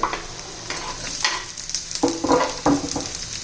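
Tomatoes go into a pan of frying onions for a dry raw-banana vegetable dish, giving a steady close sizzle with several scraping stirs and clatters, the sharpest near the end, and no one speaking.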